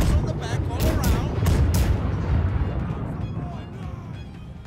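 Ship cannons fire in a naval battle in the game Blackwake, heavy booms and rumbling blasts rolling together loud and dense over a few seconds, with voices talking over the barrage.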